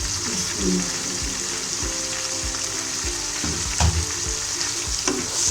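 Bitter gourd and lentils frying in a hot pan, a dense loud sizzle that runs throughout with low stirring thumps and a few louder scrapes.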